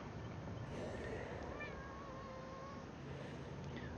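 A house cat meows faintly a few times, drawn-out and thin, beneath a steady wash of background noise.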